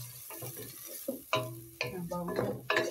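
Shallots and spices stir-fried in a pan for an Indonesian opor with egg, tofu and sponge gourd, giving soft sizzling with a few louder scraping stirs of a utensil, close and clear with no talking.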